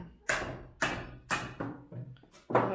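A hammer taps on Ursus C-360 tractor front axle parts, five or six sharp metallic knocks at a steady, unhurried pace, close and moderately loud.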